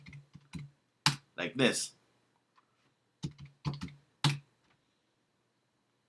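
Password being typed on a Mac keyboard: quick bursts of key clicks with pauses between, close and fairly quiet, with a brief spoken phrase among them.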